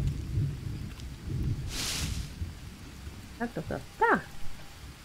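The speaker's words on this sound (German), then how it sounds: "So, schon regnet es wieder." Rain and thunder in the Green Hell jungle survival game: steady soft rain with low rumbling underneath and a brief hissing swell, while someone speaks briefly and bird-like chirps come near the end.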